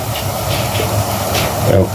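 Steady bubbling hiss of water at a rolling boil in a pot, close by and continuous, with a faint voice underneath.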